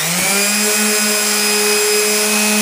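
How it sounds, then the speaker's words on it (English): A power sander whines steadily and loudly while smoothing the edge of a slotted table, a continuous tonal drone that starts up quickly and holds alone. "I'm going to sand that off real easy"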